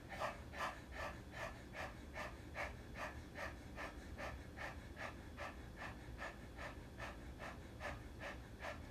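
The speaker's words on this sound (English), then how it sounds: "Now open the mouth and stick out the tongue and just start panting like a dog over the tongue." Rapid, steady panting breaths, about two per second, a person breathing like a dog with the tongue stuck out during a kundalini chanting practice, close and continuous for the whole stretch with no talk.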